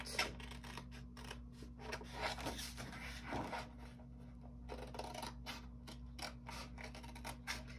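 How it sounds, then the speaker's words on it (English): Scissors snip through paper being cut out for a scrapbook layout, giving quiet, close, rapid clipping and rustling strokes in an irregular run, faint against a low background hum, with no speech. "I'm just gonna cut this out."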